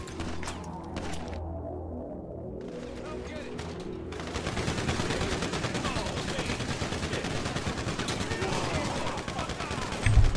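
Heavy gunfire in a GTA 5 Online casino mission, starting sparse and then swelling into a dense, continuous fusillade of shots and impacts that runs to the end, with a voice talking underneath.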